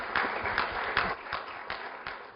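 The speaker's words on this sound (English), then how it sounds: "Let's give them a round of applause" Brief, modest applause from a lecture audience at the end of an evening talk, with irregular claps pulsing over a soft, steady patter.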